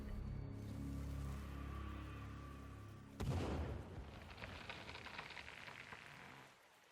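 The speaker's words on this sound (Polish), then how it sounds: "Kilka celnych strzałów i pozostałe towarzystwo się zniechęciło." A gun fires in the survival video game The Forest. One sharp, booming report cuts through a low ambient hum and then trails off into a rumbling decay. The whole passage is quiet.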